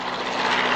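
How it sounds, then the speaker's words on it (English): Vintage aircraft fly overhead at an airshow, a steady, loud propeller engine drone holding for under a second with no talk over it. "this is a very representative bunch of aircraft in the sky"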